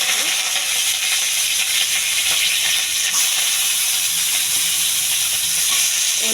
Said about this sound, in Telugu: కొంచెం అల్లం వెల్లుల్లి పేస్టు, పచ్చివాసన పోయేంత వరకు వేగించుకోవాలండి.